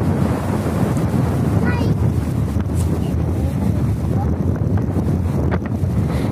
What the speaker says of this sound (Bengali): প্রচন্ড হাওয়া, এতটাই হাওয়া হচ্ছে যে আমরা কথা বলতে পারছি না